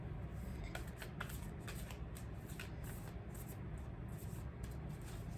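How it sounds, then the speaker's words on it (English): Tarot cards being shuffled in the hands, a continuous soft papery riffling with quick flicks and slaps repeating over several seconds, fairly faint and close, with no talk. "One more shuffle."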